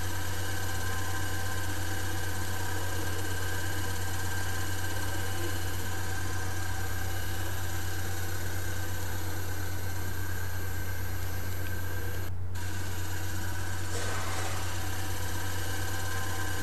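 An electric motor in a speed-control setup runs steadily at 2000 RPM, a continuous droning hum with a strong low tone and even higher whine, loud and unchanging throughout with a brief dropout near the end.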